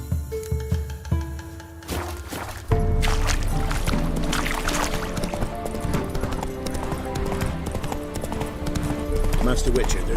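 Horse hooves clip-clop steadily in The Witcher 3, a video game, under game dialogue and background music, with a loud continuous gallop in the second half.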